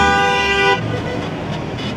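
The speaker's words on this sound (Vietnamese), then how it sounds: "Đâu ai dành giật gì đường xá đâu, bấm còi nói làm chi." A vehicle horn blares loudly on a rainy street in Da Lat, Vietnam, one sustained honk lasting under a second, followed by the low rumble of passing traffic.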